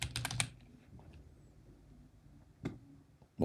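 Keystrokes on a computer keyboard, a quick burst of several taps at the start followed by two isolated presses later, close and fairly faint against a quiet room.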